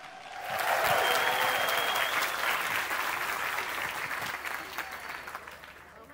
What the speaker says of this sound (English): Let's give him another applause for showing up.